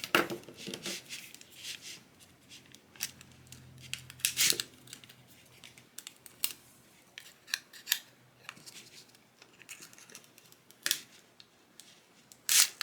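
Scissors snip repeatedly through material for a hotfix rhinestone tumbler project, a series of close, crisp cuts in irregular bursts with quiet pauses between and no talking.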